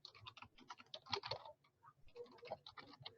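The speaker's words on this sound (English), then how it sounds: "I can type in my email address here" Rapid keystrokes on a computer keyboard as an email address is typed, a quiet, steady patter of clicks with brief pauses and no speech.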